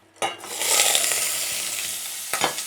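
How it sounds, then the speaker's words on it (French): Lobster heads sear in a hot pan with a loud, steady sizzle, punctuated by a couple of sharp scraping knocks near the start and end. "Donc là, on laisse bien saisir nos têtes de homard."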